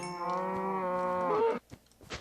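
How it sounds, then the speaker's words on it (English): A cow moos in the video game Minecraft, one drawn-out low moo of about a second and a half, clear and close, followed by faint clicks. "Alright, here's another cow down here."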